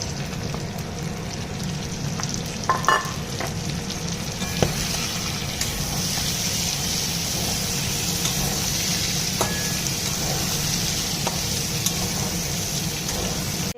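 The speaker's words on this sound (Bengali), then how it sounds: "আগে থেকে ভেজে রাখা বেগুন আর আলুটা এর মধ্যে দিয়ে দেবো।" Pre-fried eggplant and potato crackle and sizzle steadily in katla fish oil, a dense continuous frying hiss with occasional louder pops and clinks from stirring, close and without any talking.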